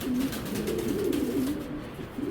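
A pigeon coos in low, throaty, rolling tones, repeated steadily over soft background hiss.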